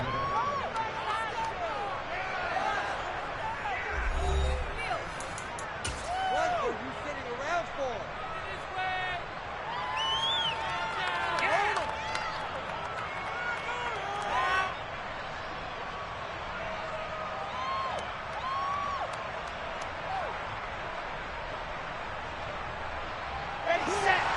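Stadium crowd noise at a Jets vs Titans football game, a steady broad roar and murmur with scattered shouts and whistles running the whole time, moderately loud, under a voice talking.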